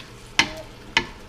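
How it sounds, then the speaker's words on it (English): Frozen sukuma wiki greens are stirred in a pan, giving two sharp scraping clatters about half a second apart over a low, steady cooking hiss. "I want to stir it up a little bit to get it cooking"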